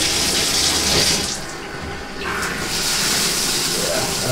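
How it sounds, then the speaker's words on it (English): Water runs from a faucet through a noisy pipe, a loud steady hissing rush with a brief dip in the middle before resuming at full strength. "Oh yeah, the pipe does this noise."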